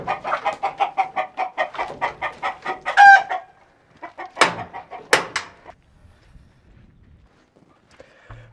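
A flock of chickens clucks in quick rhythmic bursts close by, followed by a few sharper squawks and calls before the sound fades to quiet.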